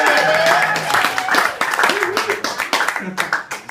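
Audience at a Thanksgiving standup comedy show applauding and cheering, a burst of clapping with whoops that gradually thins out, mixed with crowd voices.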